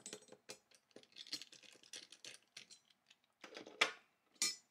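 Small screws being backed out of the metal shield on a JVC X'Eye console, a series of light clicking, ratcheting taps in uneven bursts, close and fairly quiet with no talking.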